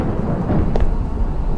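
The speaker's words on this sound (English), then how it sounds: "the thunder is" Thunder rumbling during a storm, a loud continuous low roar filling the whole moment with a slight swell partway through, heard from indoors in a restroom, no speech.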